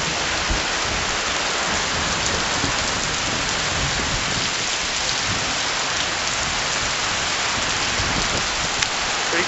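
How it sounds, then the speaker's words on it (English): Heavy rain pours steadily onto a surface, a dense, loud, unbroken roar with no gaps and no voices. "I've never seen rain like this before."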